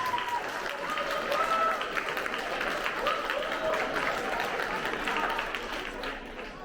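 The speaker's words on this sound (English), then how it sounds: "Let's give them a big round of applause." An audience applauds honor roll students at an 8th grade recognition, steady mid-loud clapping that fills the whole span with a crowd murmur underneath.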